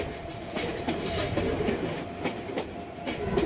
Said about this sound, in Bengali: আমরা কথা বলতে বলতেই চট্টগ্রাম রেলওয়ে স্টেশন ত্যাগ করলাম